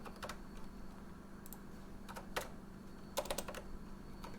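Typing on a computer keyboard: scattered quick clusters of key clicks with pauses between bursts, fairly close and quiet, no talking.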